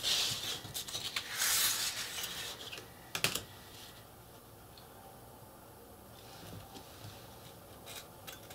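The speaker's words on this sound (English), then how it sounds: "And now I can cut those two sides at 2 inches." A craft knife cuts the sides of a card frame, giving a run of close, crisp ticking scrapes and a sharp snap before it fades to quiet faint scratching.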